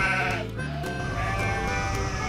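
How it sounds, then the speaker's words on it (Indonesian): White sheep bleating at a petting farm, a few wavering calls close by, loud and continuous across the clip with other animal and crowd noise around. "Jadi ada baba white sheep lagi."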